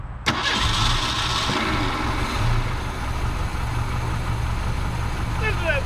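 Engine of a 1973 Ford Pinto Squire wagon cranking and catching, then settling into a steady rumbling idle up close, with a voice speaking briefly near the end.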